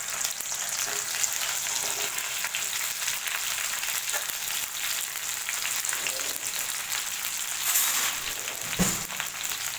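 Okra frying in hot sesame oil over a low flame gives a dense, even sizzle that runs continuously at close range, with faint occasional stirring ticks.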